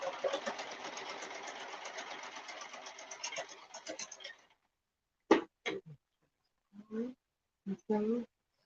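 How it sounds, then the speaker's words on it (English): A sewing machine stitches fabric for a scrunchie, whirring steadily for about four seconds before stopping, followed by a few short bursts of talk. "you pull and close it shut and sew some more."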